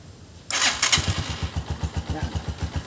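Honda TMX Alpha motorcycle engine starts with a sharp burst, then settles into a steady, close, rhythmic idle thump with no talking.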